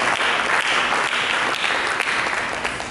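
A church congregation claps for Jesus during a Sunday sermon, dense sustained applause from a large crowd filling the room evenly for a few seconds, with no voices over it.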